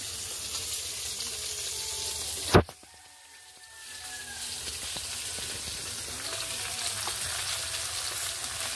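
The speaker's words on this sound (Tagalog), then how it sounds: "Prito ako ng tamban." Tamban sardines frying in a pan, a soft continuous sizzle with a sharp clatter near the start, then a brief dip before the sizzling resumes steadily and close by.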